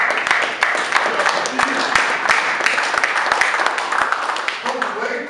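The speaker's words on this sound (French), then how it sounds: "Je pense qu'on peut quand même applaudir." Audience applause at a book launch vernissage, a continuous dense clapping crowd with sharp individual claps standing out, loud and close, with voices murmuring underneath.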